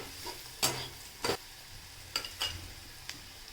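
Chopped onion with turmeric sautés in a pan for a Konkan-style snake gourd bhaji, a faint steady sizzle punctuated by a handful of sharp spatula scrapes and clicks at irregular intervals, nearby and without speech.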